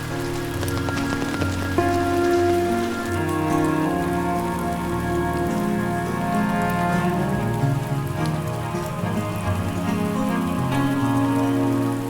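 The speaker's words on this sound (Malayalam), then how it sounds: "മഴയും കൊണ്ട് ഞങ്ങൾ അങ്ങോട്ട് നടന്നു" Steady, dense rain pours down at Marottichal for the whole stretch, an even hiss of drops hitting surfaces with no pauses.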